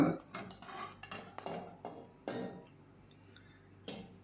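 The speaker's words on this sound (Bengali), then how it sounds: "তো সমস্ত মাংসটা এবার কড়াই থেকে আমরা প্রেসার কুকারে দিয়ে দিলাম।" Goat meat being shifted from a wok into a pressure cooker, with close metal spatula scrapes and clanks against the pan coming in irregular bursts, then a quieter stretch and one last clink.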